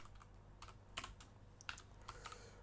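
Fingers tap out Python code on a computer keyboard, a sparse, uneven run of light clicks and a few sharper key strikes, close and quiet with no voices.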